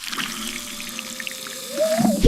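A cartoon bubbles effect: watery, gurgling bubbly tones with a rising whistle-like squeal, building louder toward a sudden burst at the end, with no speech.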